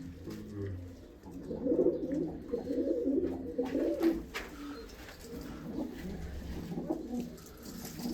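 Pigeons coo steadily at close range, a continuous low, throaty murmur of overlapping calls with no speech.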